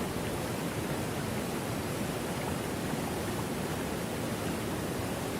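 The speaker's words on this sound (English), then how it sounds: "the peaceful sounds of prehistoric birds chirping have been bombarded by the sounds of this ginormous waterfall" A huge waterfall in a prehistoric forest roars as a steady, dense wash of noise, constant and unbroken throughout with no other sounds standing out.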